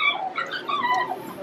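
Small puppies whimper and whine in high, thin wavering cries, close and fairly loud, over a brief stretch with no talking.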